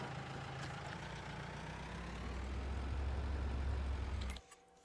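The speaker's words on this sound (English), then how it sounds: "this forge harvester has a special sound to it, so it actually sounds realistic" A forage harvester engine in Farming Simulator 22 drones steadily with a low rumble and faint whine for several seconds, then cuts off abruptly near the end.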